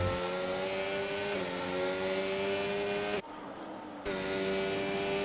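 Race car engine in a Formula 1 racing video game at Japan, running at a steady whine as it enters the pit lane, loud and close, with a short dip in the tone partway through.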